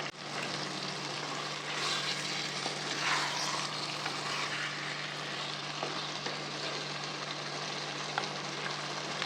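Spicy fish iguru curry simmers and sizzles in a pan, a steady, soft frying hiss that holds evenly throughout with slight swells and no one talking.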